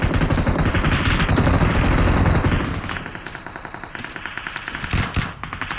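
Rapid automatic gunfire rattles loud and close in a battle royale video game, a dense burst of machine-gun fire followed by sharper, spaced single shots.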